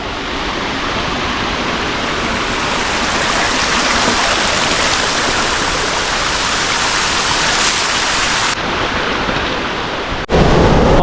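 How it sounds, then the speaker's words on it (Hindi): A forest stream on the trek to the double decker root bridge and Rainbow Falls in Meghalaya rushes loudly and steadily, a dense close roar of flowing water that runs without a break and then cuts off abruptly near the end. "पानी का स्ट्रीम भी जा रहा है यहाँ से"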